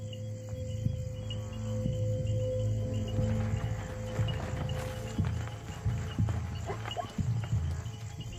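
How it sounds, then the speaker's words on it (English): A zebra herd moves through the night at a steady distance, with soft scattered hoof thuds and rustling under a constant chorus of crickets. "The sound of the herd draws one of the lionesses closer."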